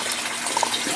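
Water filling an aquaponic grow bed in a garden, a continuous close trickling gush with small bubbling splashes, steady and without voices.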